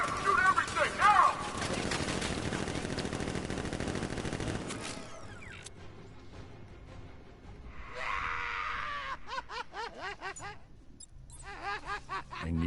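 Guards open fire in a video game with a dense stretch of rapid gunfire that fades out. After the shooting, a voice snickers and talks.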